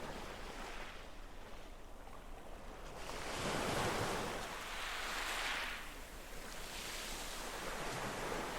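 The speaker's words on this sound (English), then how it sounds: "become aware of the sound from the waves" Sea waves wash onto the shore in slow swells, fading and building over a soft wind-blown hiss, quiet and distant with no voices.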